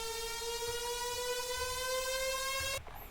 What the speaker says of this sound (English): Also we have here this riser.